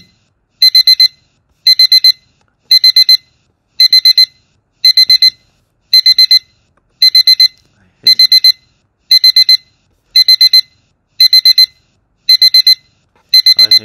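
An alarm clock rings in repeated short bursts of rapid electronic beeping, about a dozen evenly spaced loud pulses separated by brief silences, with a voice briefly speaking near the end.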